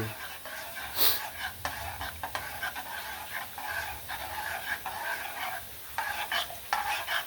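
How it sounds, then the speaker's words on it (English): Homemade BBQ sauce boiling in a pot gives a steady, close bubbling and rustling with faint clicks and stirring noises throughout. "Once she gets boiling, let it boil for about 10 to 20 minutes"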